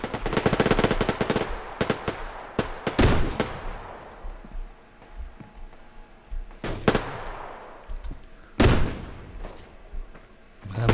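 Gunfire in the online shooter Survarium: an opening rapid automatic burst followed by scattered loud single shots and short bursts at irregular intervals, some close and sharp, others more distant.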